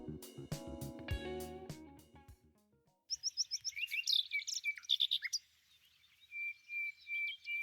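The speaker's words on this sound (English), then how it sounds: "we were greeted by a symphony of birds and the sounds of nature." Birds at Azebo Lake chirp in quick repeated bursts of high, clear calls, fairly close, following an earlier stretch of tonal sound, with a few separate chirps later on against quiet surroundings.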